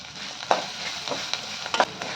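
Coriander seeds, cumin and garlic fry in a pan for a village-style gongura and coriander chutney, a soft steady sizzle broken by several sharp scrapes of stirring, close by and with no talk.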